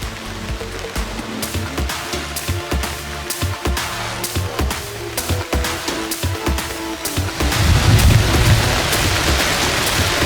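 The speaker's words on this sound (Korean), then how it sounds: "번개가 요 바로 산 머리 위에서 때리네요" Heavy downpour with thunder over a reservoir in a mountainous area during a lightning storm, dense rain hiss throughout, broadband rumbling strikes and crackles, growing louder toward the end.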